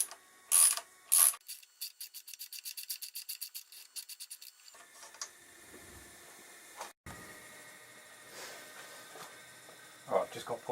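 A ratchet clicks rapidly in a quick series of strokes while loosening a bolt on a Suzuki GSX1300R Hayabusa motorcycle, followed by quieter rubbing and handling noises of the part being worked free, close by.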